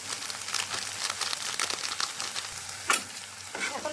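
Onions frying in a pan with ginger-garlic-chili paste, turmeric and garam masala, a steady close sizzle with scraping stirs and crackles through the stretch, no voices.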